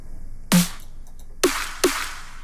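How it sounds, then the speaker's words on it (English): Three punchy snare drum samples for a dubstep kit, one hit alone then two more in quick succession, each with a sharp bright crack over a tonal body and a short noisy tail. "Next, the snare."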